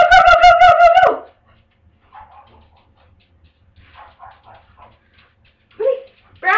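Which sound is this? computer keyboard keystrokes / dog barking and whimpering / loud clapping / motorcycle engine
dog barking and whimpering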